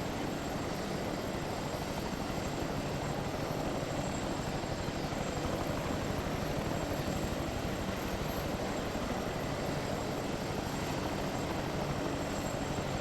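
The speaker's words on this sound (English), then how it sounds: "So it's an attack helicopter, you can do quite a few maneuvers." An attack helicopter in the video game Arma 3 flies steadily, its rotor and engine producing a loud, unbroken whirring drone throughout, with no voices over it.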